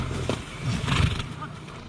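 Exhausted horses being pulled to safety during a rescue give a short, close neigh and whinny over rough background noise and faint voices.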